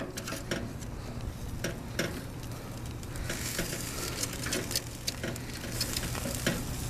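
Beer-marinated pork chops sizzle steadily on a barbecue grill, a constant close crackle and hiss broken by scraping clicks as the chops are turned over, with no talking.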